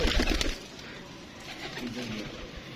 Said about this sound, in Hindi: ये कबूतर है ये वाले दोस्तों कबूतर है